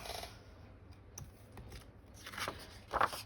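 Paper being trimmed with a cutter for a slimline journal made from 12x12 inch scrapbook paper: a few soft, brief cutting scrapes, ending in a sharper slicing sound near the close.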